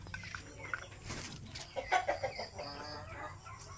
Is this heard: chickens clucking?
yes